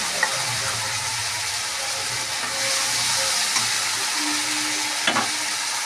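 Chili paste and nut paste frying in a pan with oil while being stirred and mixed, a steady close sizzle with scraping spatula strokes and occasional spatters, no talking.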